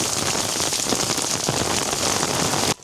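Heavy rain pours onto a house with overflowing gutters, a loud, dense, continuous roar of water hitting surfaces, close and unbroken, cutting off abruptly at the end.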